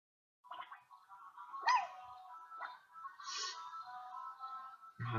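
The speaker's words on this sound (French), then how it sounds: "excusez-moi si vous entendez mon chien derrière" A pet dog yelps and whimpers in the background of a home, with several short, moderately loud cries spread across a few seconds and no talking over them.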